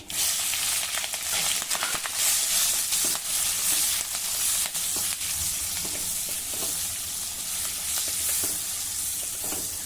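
Green chillies frying in a pan with mustard seeds, asafoetida and turmeric, giving a dense, continuous sizzle with crackling pops and occasional stirring scrapes, close and alone.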